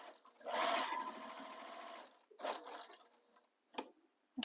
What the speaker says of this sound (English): And then I'm just basting across the bottom.